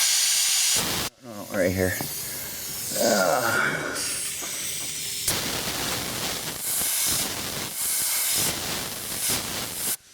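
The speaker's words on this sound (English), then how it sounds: "blow it dry." Compressed air blowing a part dry while working on a 1997 Ford Ranger, loud hissing blasts in several bursts up close, with a brief spoken remark between them.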